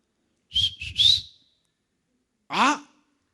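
Two short whistled phrases, the first a quick rising run of three notes, then after a pause a brief sliding whistle, clear and close.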